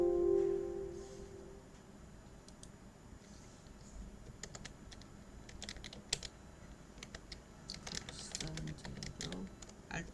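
Typing on a computer keyboard, including an Alt+Enter press: soft, irregular key clicks in quick bursts, with a slightly louder tap near the middle, close and fairly quiet, with faint room noise and little speech.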